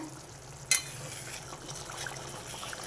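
Capsicum masala curry is stirred in a pan on the stove, with a sharp spatula scrape near the start and then a soft, steady stirring and sizzling texture.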